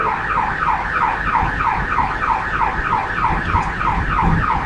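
A car alarm blares nearby with a fast, repeating warbling whoop cycling steadily at constant loudness, heard alone without any talking.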